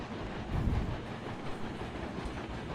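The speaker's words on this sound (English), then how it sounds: "you can see 2 locomotives operating" Two locomotives running in Railroads Online, a steady low rumbling rail noise with soft rhythmic clatter, continuous and moderately distant, no voices.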